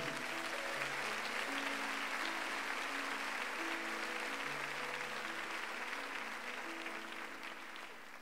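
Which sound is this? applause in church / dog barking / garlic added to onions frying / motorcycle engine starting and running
applause in church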